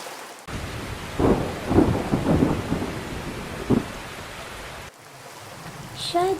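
Heavy rain falls with several deep thunder rumbles rolling through in bursts over a steady wash. The sound cuts off sharply near the end, and a softer passage follows, with no voices.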